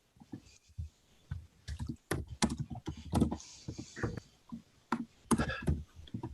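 Clicky computer keyboard typing during an online meeting, irregular bursts of close keystrokes with short pauses between them, occasionally overlapping faint speech.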